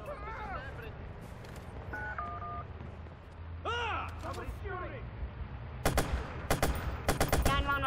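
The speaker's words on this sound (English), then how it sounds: "Somebody's shooting!" Rapid bursts of gunfire from the Watch Dogs video game crackle near the end of the clip, after voices talk over a phone line with beeping dial tones.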